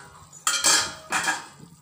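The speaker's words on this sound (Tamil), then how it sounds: "இப்போ நம்ம பிளேட்டை ஓப்பன் பண்ணி பார்த்துடலாம்." Two bright metallic clanks close by, a lid lifted and shifted on a pot of boiling fish curry, with quiet kitchen background and no talking.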